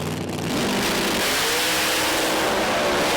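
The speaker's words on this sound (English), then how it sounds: "Traditional hard launch." A pro mod drag racing car at the 2015 British Drag Racing Championship makes a hard launch, its engine roaring loud and continuous as it accelerates away, a dense, close, sustained blast of engine noise.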